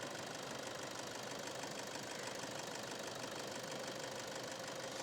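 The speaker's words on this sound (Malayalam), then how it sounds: "അപ്പോൾ നമ്മളെ വണ്ടി സ്റ്റാർട്ട് ചെയ്തിട്ടുണ്ട്." A Toyota Innova engine, just rebuilt after an oil fault, idles with a steady, even hum and a faint knocking texture, continuous and close, with no talk.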